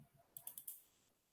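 A computer keyboard key is pressed while editing a spreadsheet, giving a quick cluster of four faint, crisp clicks close by in an otherwise quiet room.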